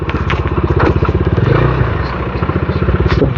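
A motorcycle engine throbs with a steady pulse while the bike bounces and clatters over a rough off-road track, loud and close throughout.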